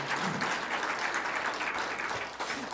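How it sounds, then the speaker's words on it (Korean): A church congregation claps together in thanks to God during a Sunday afternoon service, a steady dense wash of applause that stays full and even from start to end. "치유의 역사를 일으키신 하나님께 우리 감사의 박수 한번 올립시다"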